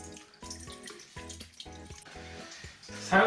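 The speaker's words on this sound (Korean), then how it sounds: "물이 굉장히 시원하게 잘 내려가죠" Water drains freely down an unclogged toilet with a close, gurgling, rhythmic glugging in repeated pulses, then a louder splashing rush at the end.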